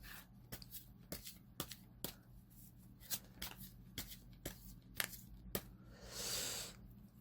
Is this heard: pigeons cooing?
no